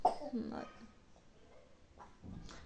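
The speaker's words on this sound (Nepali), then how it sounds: "बेबीले खोकी पनि रहेछ" A baby coughs faintly indoors in several short, separate bursts spread across the moment, quiet and close, with no talking.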